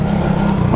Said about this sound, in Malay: Sedap dan lembut lah dia punya enjin.